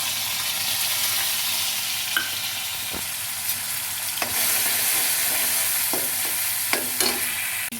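Chopped tomatoes and green chilies hit hot oil with toasted cumin, setting off a strong, hissing sizzle that swells midway, with occasional clinks and scrapes of a spoon against the pan.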